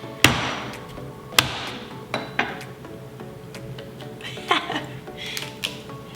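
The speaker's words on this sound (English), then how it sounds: "have the coconut, my trusty cleaver, and we're just gonna open it" A cleaver strikes a coconut several times in a kitchen, sharp hard cracks and knocks spaced irregularly, the first two loudest, followed by lighter taps and rattles at close range.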